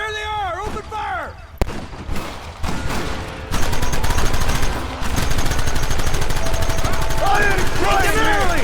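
Gunfire rings out in Red Dead Redemption: dense, rapid rifle and pistol shots crack loudly in a sustained firefight. A shout comes early on, and the shooting keeps going close by.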